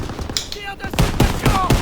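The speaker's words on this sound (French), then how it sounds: "La mitrailleuse tire" Machine gun fire in a war video game, a short burst of rapid, sharp repeated shots close by over a noisy battlefield backdrop.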